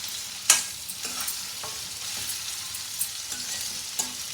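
Cauliflower and tomato curry with turmeric frying in a pan, a continuous close sizzle broken by a few scraping stirs of the spoon, no voices.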